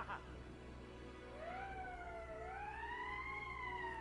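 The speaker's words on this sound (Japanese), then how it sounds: "緊急出力のサイレンですね" An alarm siren in the video game Valkyria Chronicles rises and falls in slow, wavering wails, fairly faint and steady over a low hum of background noise.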